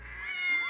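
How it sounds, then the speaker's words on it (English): A short, bright cat meow from the video game Persona 4 Golden, a single rising-then-falling cry under a second, clear and close with no talk over it. "What's up with all the cats?"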